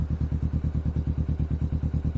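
Kawasaki Vulcan S motorcycle with an aftermarket Hoonk twin exhaust idling, a loud, deep, even loping putter of rapid regular pulses, steady throughout and close, no talking.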